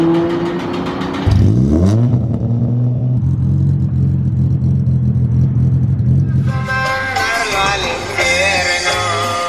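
A cammed Nissan 350Z engine, unstarted since 2021, cranks and catches, then idles with a steady rumble before revving up loudly near the end, close to the listener.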